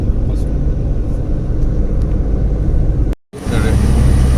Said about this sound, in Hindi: सिर्फ कैबिन का जो नॉइज है वही आपको सुनाई देगा।